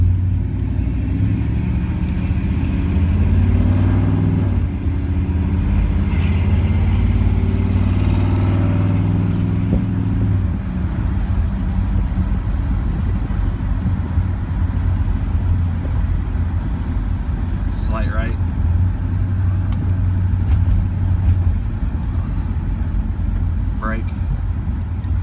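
A 1967 Chevrolet Impala drives along and makes a right turn, its engine giving a steady low rumble that is strongest early on, with occasional talking over it.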